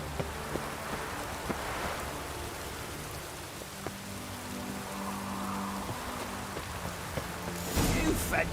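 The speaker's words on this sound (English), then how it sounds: "Looks like rain." Steady rain falling in The Witcher 3: Wild Hunt, a continuous hiss of drops spattering on surfaces throughout, with brief low rumbles and a louder burst of downpour near the end.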